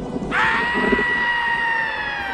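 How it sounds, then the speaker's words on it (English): A single long scream from the Spawn movie, a sustained high-pitched wail that starts abruptly and holds steady for about two seconds over faint background noise. "you scream like a girl"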